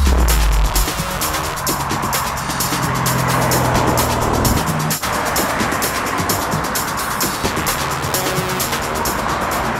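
A Vauxhall VXR8 GTS with its 6.2 litre V8 sends out a loud, deep throbbing rumble that shifts character midway, then settles into a dense, sustained roar.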